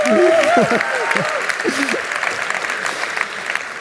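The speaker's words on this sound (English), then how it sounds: "give yourself a round of applause, please" An audience at a talk session breaks into a round of applause, a steady wash of clapping filling the room, with a voice speaking over it at the start.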